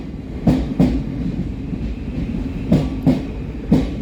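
Inside a Thameslink train coach on the Brighton Main Line, a low steady rumble of travel with rhythmic pairs of wheel clacks over rail joints, close and prominent, no talking.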